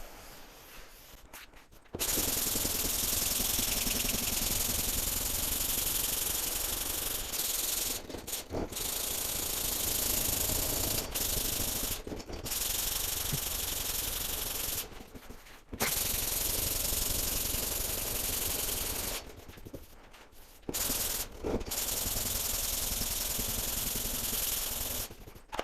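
Block sanding Evercoat Super Build body filler, long steady rasping strokes close by, broken by a few short pauses, fairly quiet with no talk.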